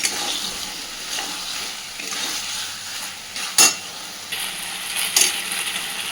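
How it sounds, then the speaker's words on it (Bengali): Potatoes for aloo dum sizzle in a pan over medium-low flame while a spoon stirs and scrapes, with an occasional sharp clink against the metal. "গ্যাসের ফ্লেমটাকে মিডিয়াম টু লোতে রেখে আলুগুলো সুন্দর করে কষতে থাকবো।"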